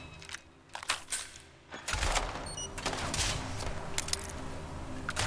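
Gunfire aimed at a window in the video game Starfield: a few scattered shots at first, then a steady rattling barrage of rapid shots with crackling impacts, fairly loud and continuous.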